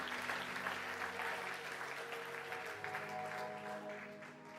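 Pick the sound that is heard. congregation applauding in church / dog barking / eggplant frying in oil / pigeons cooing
congregation applauding in church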